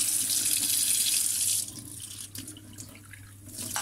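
Water gushes from a kitchen sink tap for a second and a half, then the flow is cut to a softer trickle and small splashes as tablespoons of water are measured out.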